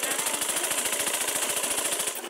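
A sewing machine stitches a black blouse, running in a fast, even rapid-fire rhythm of needle strokes, close and fairly loud for about two seconds.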